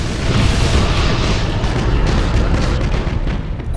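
Dense, continuous rumbling explosions and booming fire roll on without pause as a space station is pounded in the Battlefleet Gothic Armada game, loud and sustained with no speech.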